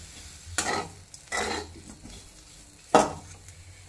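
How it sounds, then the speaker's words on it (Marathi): Bitter gourd with coriander stirred in a pan, three distinct scraping strokes with a light clink of utensil on metal over a soft sizzle, close and quiet, no talk. "परत एकदा कारलं हलवायचं"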